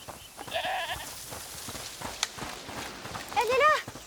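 Goats bleating in the game A Plague Tale: Requiem, two short wavering bleats, one early and a louder one near the end, over quiet game ambience with faint footsteps.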